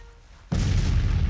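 Cannon artillery fire in the Grand Tactician: The Civil War strategy game: after a quiet moment, a sudden loud boom erupts and rolls on as a sustained, rumbling barrage of blasts.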